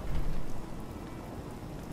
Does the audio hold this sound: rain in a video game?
yes